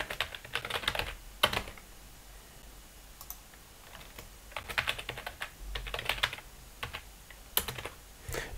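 Fingers type on a computer keyboard, entering chapter and subchapter names into a manual table of contents in Word, coming in quick bursts of clicking keys separated by short pauses.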